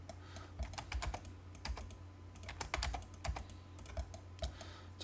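Rapid keystrokes on a computer keyboard entering AutoCAD drawing commands, a close, steady patter of clicks in irregular bursts with no voices.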